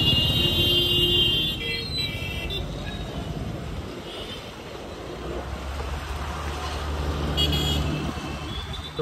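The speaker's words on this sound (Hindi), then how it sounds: "सुबह सुबह में ट्रैफिक भाई।" Busy morning road traffic with a steady wash of car and truck engines, punctuated by a few car horn toots early on and again near the end, continuous and fairly loud throughout.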